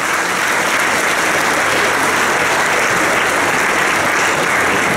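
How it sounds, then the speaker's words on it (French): Sustained audience applause at an official ceremony marking the restoration of Mont-Saint-Michel's maritime character, a dense, steady wash of clapping that stays loud and even from start to finish with no voices standing out. "Et je voulais qu'on les applaudisse"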